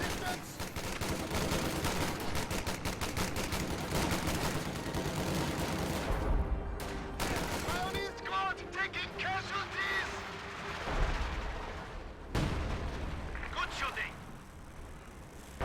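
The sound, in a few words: gunfire and artillery in a World War II strategy video game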